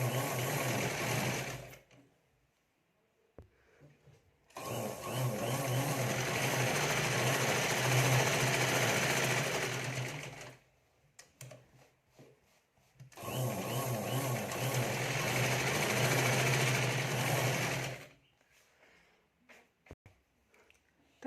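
Domestic sewing machine stitching lace along the joint of a fabric potli pouch, running in two long steady bursts with quiet pauses between, close and loud with no talking.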